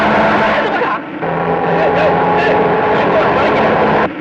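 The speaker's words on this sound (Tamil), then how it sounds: "லாரி வருது இந்த இந்த பக்கமா இப்படி வா இந்த பக்கம்" A lorry approaches on the road, its steady engine drone filling the whole stretch at close range, with voices running over it.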